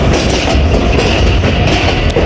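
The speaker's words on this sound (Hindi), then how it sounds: "12 डाउन हज़ारा एक्सप्रेस न्यू रेक के साथ रावलपिंडी रेलवे स्टेशन पे अप्रोच बना रही है" The 12 Down Hazara Express passenger train with new coaches rolls into Rawalpindi railway station toward platform 3, a loud continuous rumble and clatter of wheels on rails, close by and without speech.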